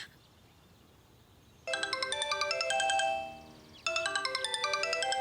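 A phone ringtone chiming in two bursts of bright repeating electronic tones, the second starting after a short pause, clear and fairly loud with no voices.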